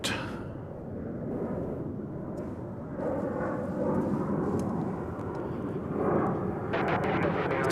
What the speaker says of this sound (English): we got planes getting launched right and left here